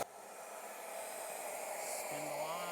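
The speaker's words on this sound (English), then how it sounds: "so vacuum on." A shop vacuum runs on a shaper workstation for woodworking, a steady airy whoosh holding at an even level throughout, with a faint pitch shift near the end and no talking.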